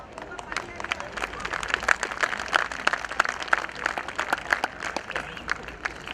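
An audience at a business plan presentation claps scattered, uneven rounds, individual claps standing out against murmuring crowd chatter and nearby talking voices.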